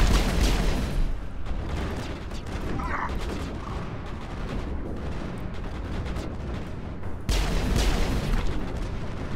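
Assault rifle gunfire in the Mass Effect video game rattles in heavy, continuous volleys mixed with booming impacts, loud throughout and briefly intensifying near the end.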